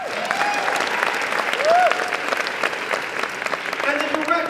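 An audience at a New York Public Library evening event applauds in a steady wash of clapping, with a voice and a brief whistle-like tone rising over it.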